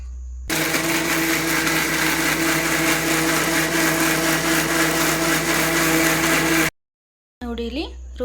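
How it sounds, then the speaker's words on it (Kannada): A mixer grinder grinds sliced ingredients into a smooth spice paste for mushroom biryani, a loud steady high-pitched whir running for about six seconds before cutting off abruptly. "ಇದನ್ನೆಲ್ಲ ಒಂದು ಮಿಕ್ಸರ್ ಗ್ರೈಂಡ್ಗೆ ಹಾಕ್ಕೊಂಡು ನೈಸಾಗಿ ರುಬ್ಕೊಳ್ಳಿ"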